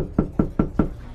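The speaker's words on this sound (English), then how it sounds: "Knock on the door." Four evenly spaced knocks land on a door, sharp and close, each followed by a short hollow decay, with no talk over them.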